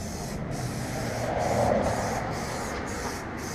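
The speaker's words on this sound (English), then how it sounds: "Plasti Dip, even if you over spray it too much, it still seems to smooth itself out" Aerosol Plasti Dip is sprayed onto the underside of a 2016 Subaru WRX front bumper on a second coat, giving a steady, close hiss that swells slightly mid-pass and runs on without break.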